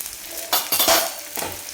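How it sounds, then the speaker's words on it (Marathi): Whole spices (cloves, cardamom, shahjeera) and a few cashews sautéing in a pan for a dhaba-style paneer tikka masala, a soft sizzle broken by a few clattering stirs. "तर हे सगळं साहित्य आपण परतून घ्यायचं आणि सोबतच आपल्याला चार पाच काजू टाकायचे आहेत"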